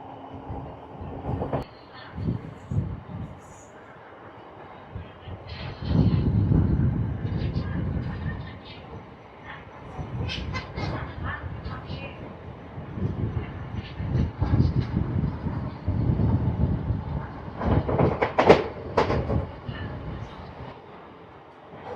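A MEMU suburban local train between Tirupati and Chennai rumbles steadily at speed, with surging waves of low rolling noise, faint wheel clatter and rattles across the carriage, and a voice talking over parts of it.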